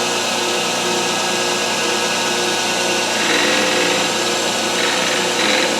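A metal lathe cutting tool touching off a blank die for hubbing: a loud, steady machine whir, with faint, light scraping contact creeping in near the end.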